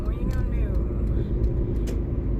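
A car interior while driving, with a low, steady road rumble and engine hum filling the cabin and a few faint clicks, heard close and continuous.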